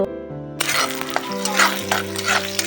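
Onion and green chili hit hot oil with nigella seed tempering in a home kitchen, a bright sizzling hiss with scattered crackles and stirring clinks, following a brief tonal sound at the start.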